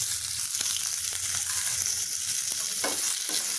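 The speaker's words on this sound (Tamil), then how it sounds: "இப்போ வெங்காயத்தை நல்லா வதக்கிக்கலாம்." Onions sautéing in oil with salt for a Tamil fish kulambu, a steady close sizzle with occasional soft stirring scrapes, no talking.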